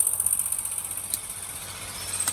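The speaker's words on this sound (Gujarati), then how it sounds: "હા એ ટ્રેક્ટર." A tractor engine runs steadily at a distance, a low continuous rumble with a faint mechanical rattle and no talk over it.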